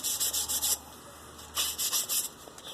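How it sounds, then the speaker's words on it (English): A wooden spoon is rubbed with 320 grit sandpaper in two sets of quick back-and-forth strokes, about five each, with a soft hissing scratch up close and a brief pause between sets. "And I use my sandpaper until it's pretty well shot."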